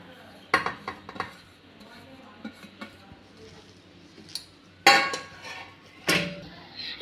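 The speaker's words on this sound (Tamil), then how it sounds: "இப்போ மல்லி இலை வெங்காயம் அதெல்லாம் போட்டு நல்லா மிக்ஸ் பண்ணிக்கலாம்" Spinach vada batter with onion and coriander is mixed in a bowl, giving scattered clinks, knocks and scraping stirs. A few louder bangs against the vessel stand out, with no voices.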